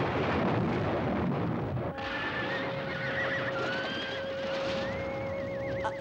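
A horse whinnies loudly and close, a long wavering neigh that rises and trembles, over a low rumbling background.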